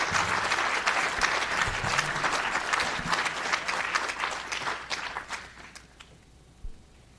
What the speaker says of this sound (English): another round of applause for Michael for such a powerful presentation